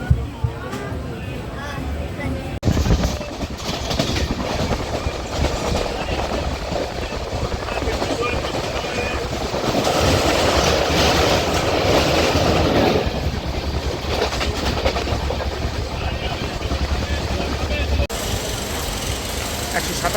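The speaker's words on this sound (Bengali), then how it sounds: "আমার ট্রেন 12858 দীঘা হাওড়া তাম্রলিপ্ত এক্সপ্রেস সাঁতরাগাছি স্টেশনে এসে দাঁড়ালো।" Express train 12858, the Digha–Howrah Tamralipta Express, rolls into Santragachi station with a loud, steady rumble and rattle of wheels on rails that swells in the middle and carries on throughout.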